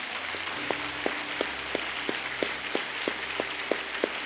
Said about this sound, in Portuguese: Dê um aplauso bem grande ao Senhor.